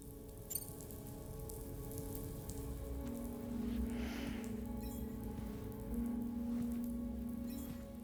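Rain falls in the 택배맨2 video game as a steady, soft patter over a low hum, with a few faint drips standing out.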